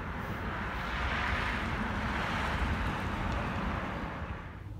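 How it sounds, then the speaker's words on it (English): Strong, steady wind on the Great Plains roars and buffets the microphone in a continuous loud rush, with no talking. "It's the Great Plains the wind is brutal all the time. Just blows and blows and blows like 30 miles per hour."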